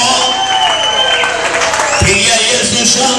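A church congregation cheers and claps in praise: a crowd of hands clapping under loud, joyful shouting and sung voices, continuous and energetic from start to finish.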